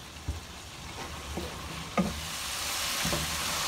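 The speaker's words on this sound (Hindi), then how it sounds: "बस 2 मिनट हम पकाएंगे इसको।" Red chili and black pepper cooking in a pan, a soft, low sizzle with a few scattered stirring knocks spaced about a second apart, close but quiet.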